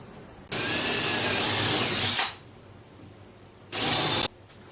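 A power drill bores holes in a kitchen cabinet door in two bursts, a long whining run of about two seconds and then a shorter one, against a faint steady background hum.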